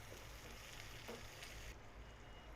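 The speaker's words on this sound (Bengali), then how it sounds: "ভালো করে পেঁয়াজগুলো একটু ভাজা নিব।" Onions frying in oil in a home kitchen pan, a steady, quiet sizzle with soft crackling throughout and no voices.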